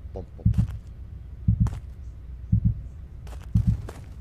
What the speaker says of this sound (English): if that was him, my heartbeat should be bump, bump, bump, bump, bump.